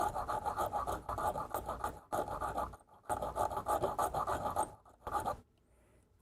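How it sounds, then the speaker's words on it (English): A hand file rasps steadily against a small part for a eurorack mult module, close and fairly loud, in long back-and-forth strokes broken by brief pauses. "Why does it always come down to me filing stuff?"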